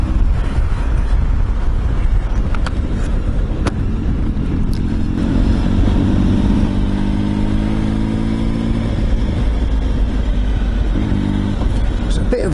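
A Triumph Tiger motorcycle engine drones steadily on a ride, loud and continuous with wind rush, and its pitch rises and falls through the gears midway.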